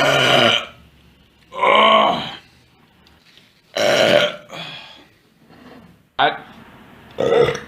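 A man lets out several loud, long, drawn-out burps one after another, close to the mic, with short quiet gaps and some grunting between them.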